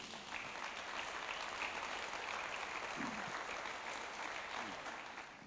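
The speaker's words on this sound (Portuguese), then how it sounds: "Palmas para Jesus." A church congregation claps hands together during a Portuguese-language Sunday worship service, a steady dense wash of applause that holds level throughout, with faint voices mixed in beneath.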